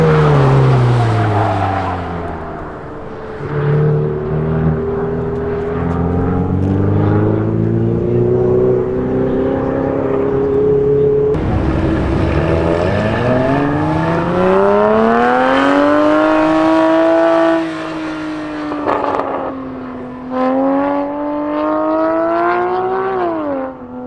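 A Porsche Cayman GTS on track at Auto Club Speedway, its engine revving loudly and sweeping up and down through the gears with a strong, continuous howl that rises and falls across the lap.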